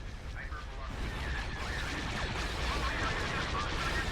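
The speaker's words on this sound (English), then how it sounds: "Get a nice hypervelocity gunshot" Hypervelocity gun fire in a Star Wars Republic space-strategy game, heard as a loud, dense, roaring barrage of rumbling blasts that keeps building over several seconds.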